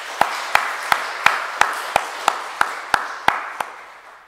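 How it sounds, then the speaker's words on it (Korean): A church congregation at a Sunday afternoon service claps for the young people, a dozen or so crisp claps in a steady, even rhythm, clearly in unison. "우리 청년들에게 격려의 박수 한번 해주실까요?"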